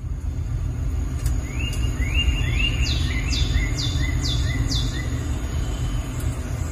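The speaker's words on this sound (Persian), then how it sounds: "اول با گزینه جنگل سرزنده شروع می‌کنید که اینطوریه." A lively forest nature soundscape plays through the audio system of a 2020 Hyundai Sonata: clear repeated bird chirps and whistled calls in quick series, over a constant low rumble of the car's cabin.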